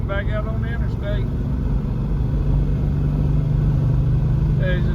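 Inside a Plymouth Belvedere 440 four-speed cruising on the interstate, a steady low engine and road drone runs throughout, with people talking intermittently over it.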